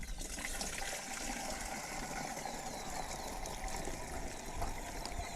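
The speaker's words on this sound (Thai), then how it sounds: "แล้วก็เทน้ำเปล่านะครับ ลงไปในถัง" Plain water is poured into a bucket while mixing a fermented manure fertilizer for rice fields, a continuous soft rushing and trickling that stays fairly faint and even, with no talking.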